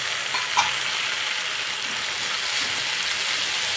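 Onion and tomato sizzle steadily in a pan while cooking a matar paneer curry, a constant bright frying hiss with a faint stir near the start, close and alone.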